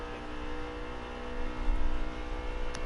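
A NASCAR Truck Series race truck at full throttle during a qualifying lap at a speedway, a steady loud engine drone swelling briefly as it passes, with no talk.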